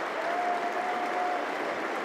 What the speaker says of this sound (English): Crowd enjoy that.